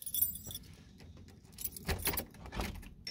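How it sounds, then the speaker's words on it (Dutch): A set of keys jangles and clinks in short metallic bursts, soft and close, with quieter handling noise between the shakes. "sleuteltje pakken."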